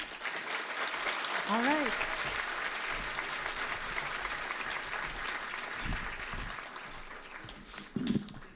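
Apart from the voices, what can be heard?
audience applause for keynote speaker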